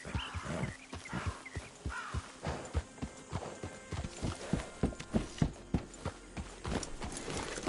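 In Red Dead Redemption 2, a horse's hooves clip-clop in a steady walking rhythm, each hoofbeat close and distinct, with a brief whinny early on.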